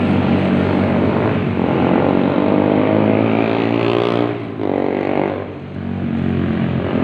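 Steady, loud traffic roar from vehicles on the road beside People's Park in Valenzuela. The engine noise is continuous and close, briefly dipping midway before swelling again.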